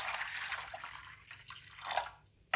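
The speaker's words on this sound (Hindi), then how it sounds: "अब इसके अंदर गर्म पानी ऐड कर देंगे।" Hot water poured from close by into a bowl of salted cauliflower florets in a home kitchen, a steady splashing stream that swells and fades over a few seconds before a sharp clatter at the end.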